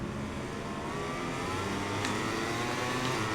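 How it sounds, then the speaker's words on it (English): A racing motorcycle engine in the MotoGP 21 video game winds up through the gears, a steady high revving whine that climbs in pitch, with a couple of faint clicks near the end. "Up through the gears we go."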